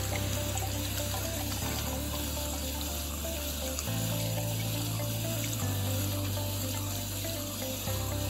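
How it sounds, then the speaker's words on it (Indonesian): Tap water runs steadily into a sink as hands are washed with soap, a soft continuous stream heard under background music, with no talking. "Cuci tangan di bawah air mengalir menggunakan sabun."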